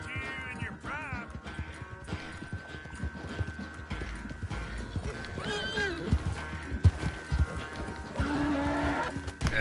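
Rhythmic clip-clop of horse hooves plodding along with a couple of whinnies and neighs from a worn-out horse in the video game Red Dead Redemption 2, game-like and clear throughout.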